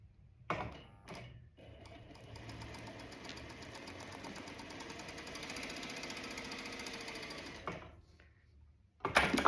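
A sewing machine stitches fabric for foundation paper piecing patchwork. After a couple of short bursts it settles into a steady, close mechanical whir for about seven seconds, then stops and restarts.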